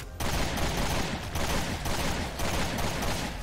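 Assault rifle fire in Resident Evil: Revelations 2 Raid Mode rattles in a dense, continuous burst that runs loud and close from start to finish, with no talk.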